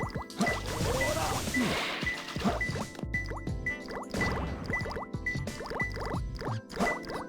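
Water level shifting in the Sonic Adventure 2 video game: continuous bubbling, gurgling, sloshing effects layered with busy game sounds, loud and steady throughout.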